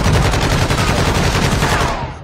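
Gunfire in a video game, a loud, dense burst of rapid shots rattling continuously for a couple of seconds before tailing off, with no break between reports.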